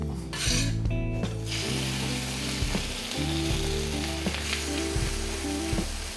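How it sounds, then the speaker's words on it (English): Harissa onions frying in vegetable oil on a griddle make a constant crackling sizzle. Scraping and knocking from a spatula sound over it, along with low-pitched tones running underneath. "I'm going to start off by cooking the harissa onions"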